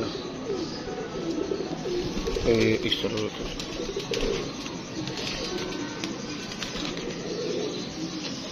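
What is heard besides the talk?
pigeons cooing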